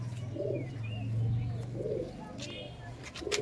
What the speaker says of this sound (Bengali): জিরিয়া পায়রা বলে, জিরিয়া বলে সবাই